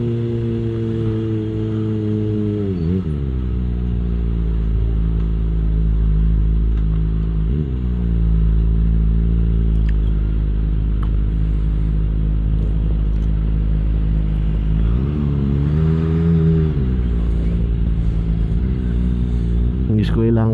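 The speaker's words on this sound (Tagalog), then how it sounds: "sobrang smooth niya kada piga mo engine lang maririnig mo tayong exhaust niya halos walang vibration" A 2023 Kawasaki Z900 motorcycle engine and exhaust run loud and close with a steady, smooth drone, swelling with throttle blips around a few points, and a voice talks over it throughout.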